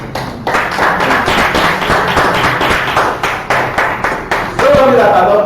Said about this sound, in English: Also, let's clap for it,